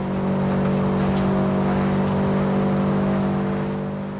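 A fast car accelerates along a highway in a video game, producing a loud, continuous engine drone with a steady tone that fades slightly at the end.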